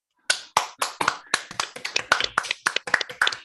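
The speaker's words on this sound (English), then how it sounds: "make an applause to all of us" Online participants clap together in a brief ragged burst of sharp slaps, many separate hands unsynchronised and close to the microphone, with no voices.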